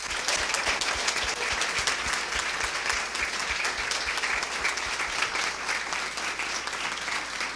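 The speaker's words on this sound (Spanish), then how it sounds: "vamos a regalarle otro aplauso especial a don Enerio Rodríguez." An audience at an academic tribute to a psychology scholar bursts into sustained applause, a dense, even patter of many hands clapping steadily throughout with no voices over it.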